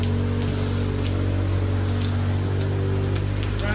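Steady, dense rain falls on a surface during a car trip, a loud continuous hiss with no voices over it.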